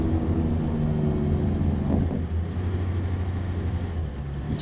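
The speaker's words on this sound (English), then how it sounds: "It's not a very loud Jake brake" Jake brake on a Kenworth W900 truck in American Truck Simulator, a rumbling low engine-brake chatter held for several seconds, fairly close and moderate in volume, with a faint high whine fading early.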